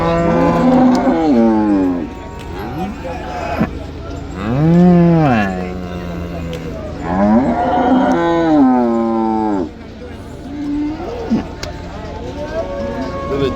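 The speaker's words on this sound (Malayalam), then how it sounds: "ഇത് കാസർഗോഡ് കുള്ളനിൽ പെട്ട പശുവാണ്" A hornless Kasaragod dwarf cow moos several times close by at a market, long drawn-out lowing calls with short pauses between them.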